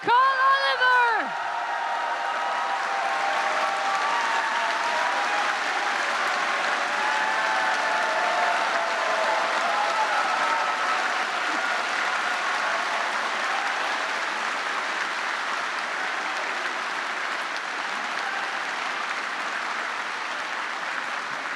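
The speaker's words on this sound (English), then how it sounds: "please give a big welcoming applause to Mrs. Nicole Oliver." Audience at a convention opening ceremony applauding and cheering to welcome a guest onstage, a broad, sustained wash of clapping and crowd noise that holds steady for the whole stretch, with a voice briefly heard at the very start.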